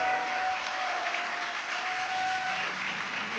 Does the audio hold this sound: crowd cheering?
yes